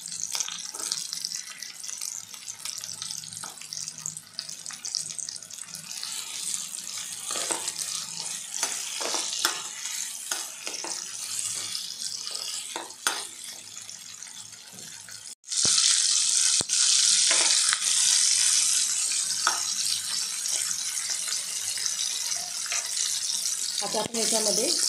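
Capsicum tossed into a pan of frying onions for tomato rice, a steady sizzle that jumps sharply louder midway as the peppers hit the hot oil, then keeps hissing continuously with no talk.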